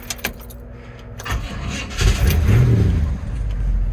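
A car engine, one with no choke, cranks and catches after a light jingle of keys, then settles into a steady idle that sounds close and fairly loud.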